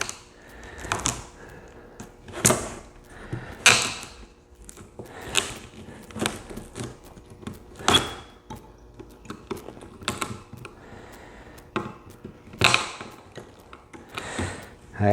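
A staple puller prying staples out of the covering on a vintage 1988 Fender Princeton Chorus amp, heard as a series of sharp, close clicks and snaps spaced irregularly a second or two apart, with no talking.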